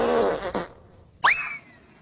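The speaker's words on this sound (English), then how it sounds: "It's God's desire to bless you with farts that will knock your socks off." Cartoonish fart sound effect: a brief blast near the start, then a second, sharper rising squeal-like burst just after a second, both loud and clear with no talk over them.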